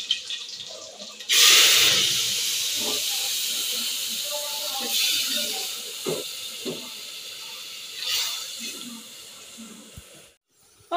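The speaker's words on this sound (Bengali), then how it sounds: "এই যে পেঁয়াজি ভাজছি ইফতারের জন্য" Onion fritters (peyaji) fry in hot oil for iftar, a loud hiss bursting in as they go in and then a steady sizzle with clinks and kitchen knocks, fading near the end.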